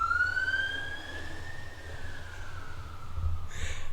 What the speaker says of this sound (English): and that's a siren